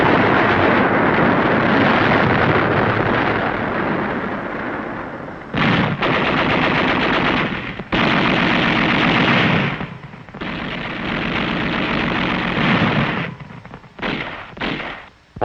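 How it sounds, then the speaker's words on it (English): Sustained WWII battle gunfire on Okinawa, loud continuous rattling machine gun bursts mixed with heavy artillery booms, dense and unbroken for long stretches with brief gaps, no voices. "Troops following the highway were subjected to unrelenting enemy artillery fire."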